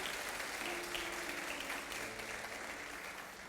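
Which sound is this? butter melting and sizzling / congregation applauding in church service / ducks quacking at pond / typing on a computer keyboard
congregation applauding in church service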